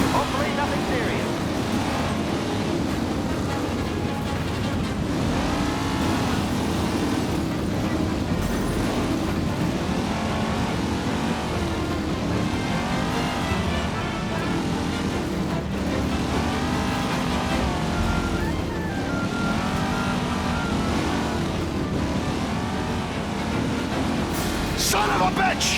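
Race cars in Mafia: Definitive Edition roar continuously through a rough, aggressive race, engines droning and revving steadily, with a voice talking over much of it.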